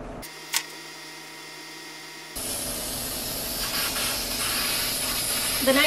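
Professional foam glue adhesive sprays from a can in a steady, close hiss that starts partway through and continues to the end, after a quiet stretch with a single small click.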